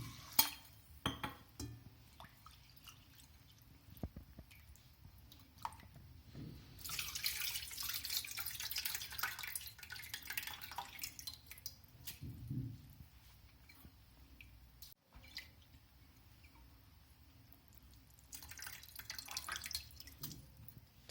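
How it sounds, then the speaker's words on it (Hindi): Soaked rice for kheer is rinsed and swished by hand in clean water, giving soft sloshing, dripping and stirring sounds that swell and fade at close range. "तो ये एक बार साफ पानी से धो लेती हूँ"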